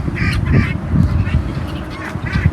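Domestic Çorum geese honking on a farm, repeated nasal calls in short bursts over a busy, noisy background.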